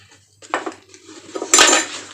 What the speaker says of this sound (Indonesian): kita aduk ya, kita aduk dulu